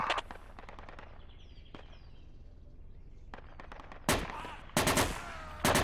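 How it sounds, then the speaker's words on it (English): Bursts of gunfire in a tactical shooter game, scattered single shots early, then loud close rapid volleys near the end as the player is hit. "I'm getting shot"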